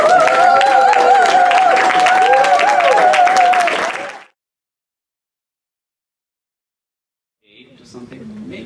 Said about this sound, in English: specially an artist as good as Jamie Newell, we just don't give them one round of applause.